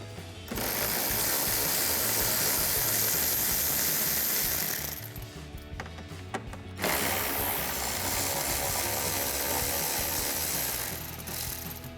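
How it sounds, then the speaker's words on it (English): A 7mm socket on a ratchet backing bolts out of the wheel well of a 2018-2020 Ford F-150, rapid continuous clicking close up for several seconds, a brief pause, then another long run of ratcheting. "So we'll take a 7mm socket to remove these."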